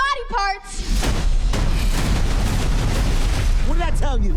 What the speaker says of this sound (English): What did I tell you? Minimal explosions.